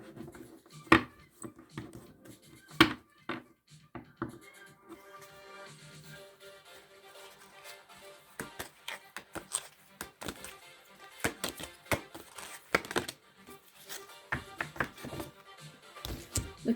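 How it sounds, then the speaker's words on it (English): Tarot cards shuffled in the hands, giving soft irregular taps and riffling bursts, quiet and close, in uneven clusters with short pauses. "so that's why I'm shuffling."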